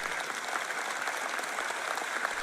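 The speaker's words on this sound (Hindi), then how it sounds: "आप ज्यादा ऊंची तालियां नहीं बजा रहे।" Steady, even applause from a large audience at a Joyce Meyer sermon, a continuous clapping texture with no talk over it.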